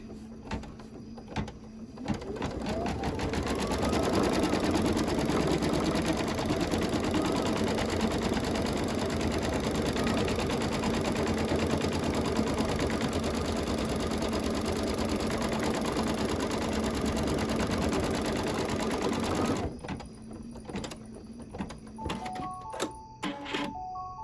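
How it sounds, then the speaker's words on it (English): An embroidery machine stitching down an appliqué piece on a Halloween quilt block, a loud, fast, steady mechanical whir for about seventeen seconds before stopping, followed by faint clicks and beeps. "I'll stitch that down."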